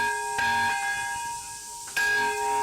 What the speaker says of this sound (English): dedicates this Nagasaki bell as a symbol of the rebirth of Nagasaki